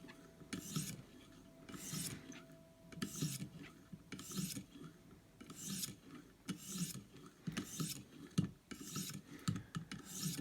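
Steady back-and-forth passes of a knife blade over a ViperSharp sharpening stone, an Ontario Rat 1 being honed, each stroke a distinct rasping scrape in an even rhythm of about one per second, close and clear with no talking.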